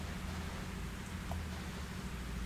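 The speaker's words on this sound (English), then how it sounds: "It's raining again." Steady rain falls throughout a scene in the video game Fatal Frame 3, a soft continuous hiss at low volume with no other sounds standing out.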